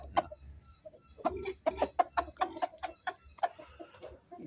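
Chickens and roosters clucking in short, irregular bursts while being fed, close and fairly loud, with several birds calling over one another.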